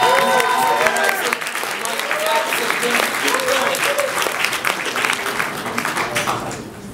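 Sustained audience applause and crowd noise at a mosque students' poetry slam open mic as a poet is welcomed to the stage, dense clapping throughout with some voices mixed in, fading near the end.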